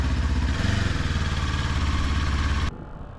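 A Kawasaki Ninja 400 KRT Edition engine runs close and loud with a steady, busy mechanical drone, then cuts off abruptly near the end, leaving only quiet background.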